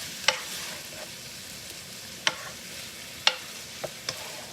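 Keto beef and broccoli frying in a pan gives a soft, steady sizzle, broken by a few sharp scraping clicks of a utensil stirring through it, nearby and fairly quiet.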